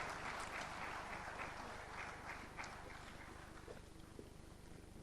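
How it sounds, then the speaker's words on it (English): Audience at a mutual fund industry knowledge summit applauds to welcome a keynote speaker, a soft, distant, steady wash of clapping heard faintly throughout. "please give him a big round of applause to welcome him"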